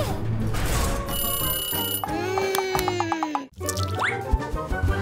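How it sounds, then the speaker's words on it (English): Cartoon alarm sounding in an animated children's show as a character escapes a jail cell, a bright ringing, bell-like alarm tone with a swooping whistle, loud and busy amid other cartoon sound effects. "Oh no! An alarm goes off!"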